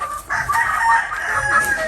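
A rooster, one of a newly brought home backyard flock in the Philippines, calls out loudly and close by in a short, strained crow lasting under two seconds.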